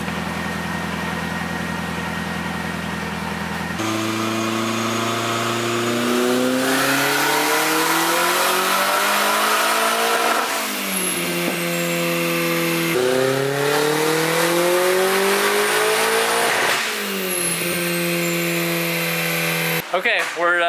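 A turbocharged Nissan 240SX engine on a tuning session revs up again and again, each rise sweeping up in pitch and falling back to a loud, rough idle between pulls.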